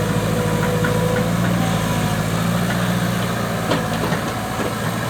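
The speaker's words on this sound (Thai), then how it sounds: "ก็จะเห็นว่ามีเสียงดอกของเครื่องโหลดลงมานะครับ" A loud diesel engine of an SK045 backhoe running close up, a steady deep rumble with knocking vibration that strains slightly under load toward the end.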